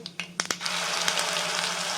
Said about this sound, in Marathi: कढईमध्ये दोन चमच तेल टाकलं राई जिऱ्याची फोडणी द्यायची